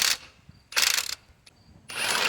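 A socket ratchet clicks through three quick bursts with brief pauses between, close and crisp, loosening 17mm transmission bolts on a Nissan Murano during engine removal.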